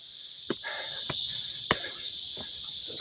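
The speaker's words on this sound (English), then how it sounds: "The cicadas are going and everything." Cicadas drone in the Korean summer heat along the 1796 fortress walls of Suwon, a steady high buzz running throughout, with a few sharp footsteps or taps cutting through at intervals.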